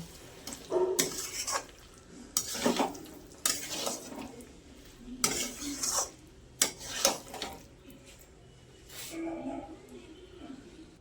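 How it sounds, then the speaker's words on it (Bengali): Paneer being stir-fried with spices in a pan, heard as bursts of scraping and clinking from a spatula against the pan, repeated at irregular intervals over a soft background sizzle, fairly close and quiet. "আবার পনিরটাকে মশলার সাথে আবার ভালো করে কষবো।"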